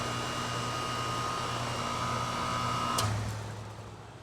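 A 2008 Goodman heat pump runs in heat mode on a chilly night, giving a steady mechanical hum with a faint tonal whine. Near the end it shifts with a brief click and a lower drone as it settles.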